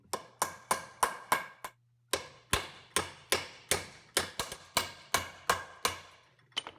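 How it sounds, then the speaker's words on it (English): A hammer lightly taps a universal joint into its seat during U-joint replacement on a Chevrolet Silverado, making a close series of sharp metallic knocks at a steady pace with a short pause, and no talking. "I'm going to tap this lightly and try to get it to seat"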